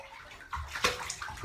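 Water sloshes and splashes in a bathtub in short, close, uneven bursts, with a brief gurgle near the end.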